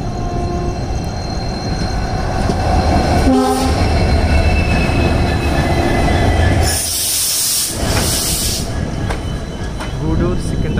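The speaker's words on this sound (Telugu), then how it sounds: "సో ప్రజెంట్ ఇక్కడ ట్రైన్ చూస్తున్నారు కదా, సో అది వచ్చేసి సింహపురి ఎక్స్ప్రెస్" Simhapuri Express train at a station with loud, continuous rumble and wheel noise and a brief horn blast midway, a bright screech following, with people talking nearby.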